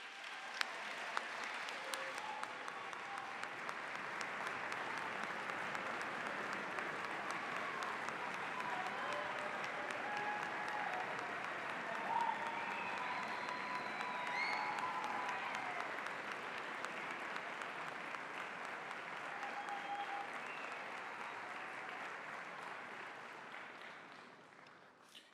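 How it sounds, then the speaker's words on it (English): Long, even applause from a concert hall audience at a county high school band concert as band directors walk onstage, filling about twenty-five seconds before tapering off at the end. "Let's give a round of applause to our dedicated band directors as they join us on stage."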